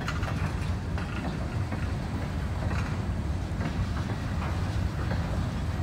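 In the rain, a freight train shoves cars back along a spur, giving a steady rumble with rhythmic wheel clatter over the rails under constant rainfall.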